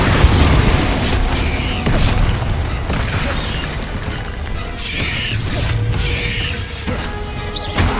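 Confringo fire-blast spell explosions in the video game Hogwarts Legacy: loud, dense booming bursts that roll over one another with mechanical clattering and creaking, keeping a thick, continuous roar throughout with no speech.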